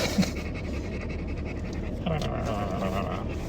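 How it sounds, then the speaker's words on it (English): Heavy, rapid panting breaths close to the microphone, continuous and rhythmic, with a muffled voice in the background. "Because she's breathing hard in my ear."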